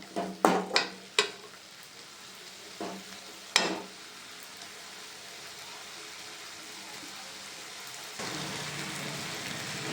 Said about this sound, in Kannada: ಇನ್ನೂ ಒಂದು ಸ್ವಲ್ಪ ಫ್ರೈ ಆಗಲಿ.